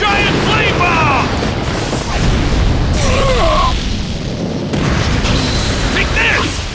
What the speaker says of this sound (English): Fire style! Giant flame bomb!